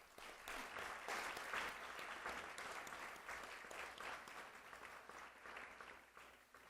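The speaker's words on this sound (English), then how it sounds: "Let's give him a round of applause." A city council meeting audience in Rochester, NY gives a sustained round of applause. The clapping is steady, dense and fairly distant, fading slightly at the end.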